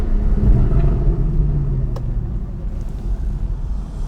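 A deep engine rumble from a Porsche 911 with a naturally aspirated flat-six idling and revving gently nearby, a steady low growl with a slight rise and fall in pitch.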